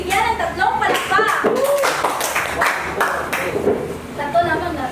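Children in a classroom clap in unison to give a classmate three claps, sharp hand claps in quick sets with voices talking around them.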